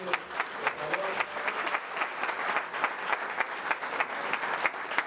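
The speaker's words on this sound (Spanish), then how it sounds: "Gracias por estar aquí, un aplauso para ellos." A large conference audience of a Pan-American society claps in sustained, even applause with a few sharper claps standing out. Faint murmurs sit underneath.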